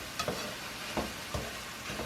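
Bottle gourd sautéing with ground meat in a pan, a soft continuous sizzle broken by a few scraping stirs at irregular moments, fairly quiet and close.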